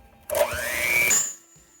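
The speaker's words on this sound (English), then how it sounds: "I've added the eggs and the vanilla, and I'm going to mix these in with the mixer" An electric mixer starts up briefly with a rising whine while beating eggs and vanilla into chocolate chip cookie dough, running close and steady for about a second before stopping.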